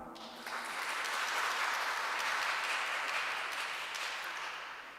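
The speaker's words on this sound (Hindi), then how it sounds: "आपकी भरपूर तालियों में" A church congregation applauds at a Pentecost service, a steady, dense wash of clapping that swells after a brief start and holds evenly for several seconds before easing slightly.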